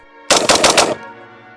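A short burst of about four rapid gunshots from a magazine-fed rifle rings out loudly after a quiet moment, then fades into a faint lingering ring.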